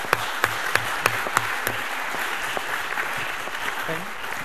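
An audience at a research libraries conference panel claps steadily in a broad wash of applause, with a few sharper individual claps standing out near the start.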